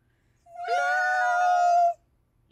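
A voice imitates a cat's meow, one long drawn-out mewing call rising and then holding steady before cutting off, loud and close against a quiet background.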